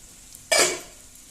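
Okra (bhindi) hits a hot pan for Goan-style bhindi fry with a sudden, close-up sizzle that bursts loudly and then fades away over about half a second, with no one speaking.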